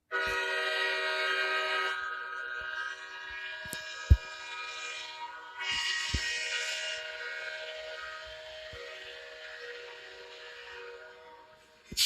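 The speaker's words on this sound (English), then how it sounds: "I know this horn. I really like this one." A loud, multi-tone train horn blasts steadily at first, then sounds again more softly amid clicks and clatter, fading toward the end.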